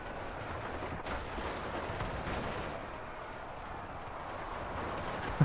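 In a zombie-survival video game, US Army mortars and gunfire pound the horde, with tanks and Humvees in the fight. The result is a faint, continuous rumble of rattling shots and booms, with a sharper crack at the very end.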